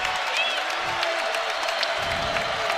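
A basketball crowd at an Iowa vs Iowa State men's college game cheers and applauds in a steady, roaring wash, with squeaking shoes and a commentator talking over it.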